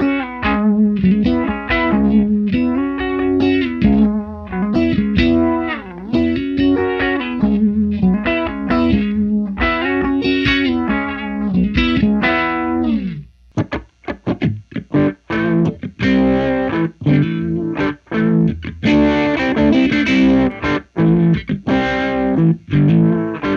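Electric guitar played through a Danelectro DJ-15 Chicken Salad vibrato pedal into a Fender Super Reverb amp, wavering chords and riffs, clean then slightly driven, loud and alone.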